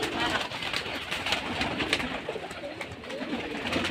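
Pigeons cooing at a pigeon farm, a dense overlapping chorus of many birds heard up close, steady and continuous throughout with no clear talk.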